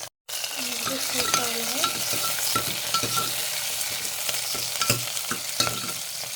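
Ginger sizzles and fries in hot oil while a mutton curry is being started, a steady crackling hiss with stirring scrapes, close and alone.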